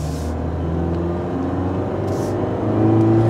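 Toyota Corolla engine revving in first gear in sport mode, a steady close drone of engine and road noise that rises slightly in pitch and loudness near the end, with no talking.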